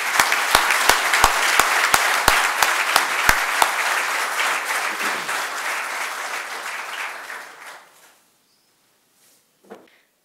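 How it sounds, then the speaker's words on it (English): An audience at a talk gives loud, dense applause with a few sharp claps standing out; it carries on for about eight seconds, then stops abruptly into near silence. "a roaring applause from all of you"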